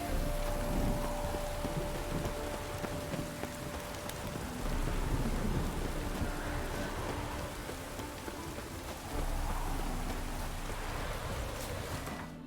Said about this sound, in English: I don't want to be doing this in the fucking rain.